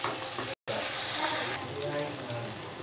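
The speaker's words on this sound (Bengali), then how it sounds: "হিট কমিয়ে 4 থেকে 5 মিনিট আমি মেটেটা কষিয়ে নিয়ে বাদ বাকি উপকরণ অ্যাড করব।" Goat liver sautéing in a pan over low heat, a continuous close sizzle and frying hiss with a brief dropout near the start, steady throughout.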